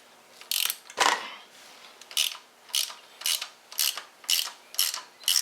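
A ratchet wrench cranks a Loctite-secured bolt on a Harley Twin Cam cam plate, with one strained crack early followed by a steady run of about eight rhythmic clicking strokes, close and fairly quiet.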